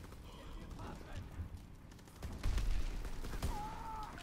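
Gunfire in the video game Call of Duty WW2 comes as a rapid burst of shots under talk, with game effects and a brief whistling tone.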